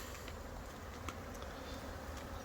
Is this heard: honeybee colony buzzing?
yes